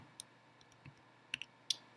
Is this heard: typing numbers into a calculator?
yes